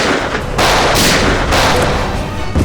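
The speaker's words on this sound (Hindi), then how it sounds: "धड़ाधड़ गोलियां चलनी शुरू हुई" Loud bursts of gunfire ring out in quick succession, harsh cracks and booms filling the space with little pause between them.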